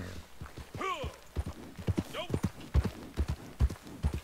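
Horse hooves clip-clop in a steady walking rhythm in the Red Dead Redemption western video game, close and distinct, with a brief whinny-like tone and a voice speaking over parts of it.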